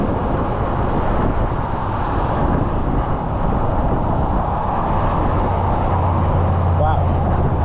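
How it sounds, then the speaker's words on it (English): Cars rush past loudly on a road at dawn near the Suncoast Trail, a steady roaring whoosh of traffic that fills the whole stretch, heard from close by during a bike ride. "Those cars sound like rockets taking off."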